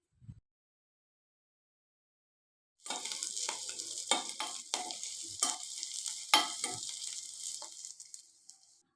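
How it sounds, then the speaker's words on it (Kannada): Dry curry leaves fry in hot oil in a pan for a Coorg-style dry fish curry, a loud steady sizzle with crackling pops that starts suddenly after a brief knock and a few seconds of silence, then eases off near the end. "ಇವಾಗ ಸ್ವಲ್ಪ ಕರಿಬೇವಿನ ಸೊಪ್ಪು ಹಾಕ್ಕೊಂಡು ಫ್ರೈ ಮಾಡ್ಕೊಳ್ಳೋಣ"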